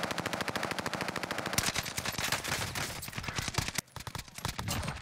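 Sustained automatic gunfire in the video game Warzone Pacific, a loud rapid stream of shots with a brief gap near the end before firing resumes.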